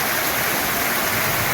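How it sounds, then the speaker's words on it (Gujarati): Heavy rain from the first rain of the season pours with rushing, flowing water, making a loud, continuous broadband roar with no talking. "જો વરસાદે ફૂલ ચાલુ છે, પાણી ફૂલ ચાલુ છે"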